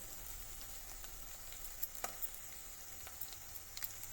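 Taro root pieces fry in oil with a quiet, continuous sizzle, broken by scattered soft pops and crackles spread through the clip, no voices over it.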